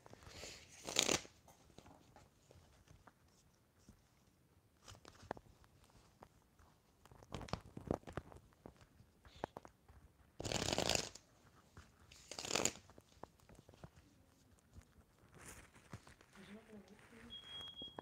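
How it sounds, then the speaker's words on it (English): A tarot-style deck is shuffled and cards are pulled for a reading, giving soft papery riffles and slaps in short bursts, with quieter handling and rustling between them. "once I pull these cards for you"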